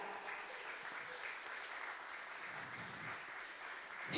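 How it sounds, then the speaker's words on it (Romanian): An audience at an honorary citizen ceremony in a Romanian commune claps steadily, a soft, continuous patter heard at some distance with no talking. "pe care vă rog frumos să-i aplaudați"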